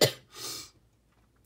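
A person coughs near the microphone: two short, breathy bursts a moment apart, then near silence, with no talk.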